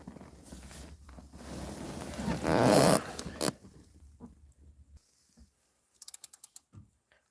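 A ratchet tightening intake manifold bolts to 5 foot-pounds on a 4.3L Chevy Astro engine, a burst of close mechanical clicking and rustling followed later by a quick run of sharp ratchet clicks.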